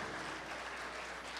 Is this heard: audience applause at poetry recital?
yes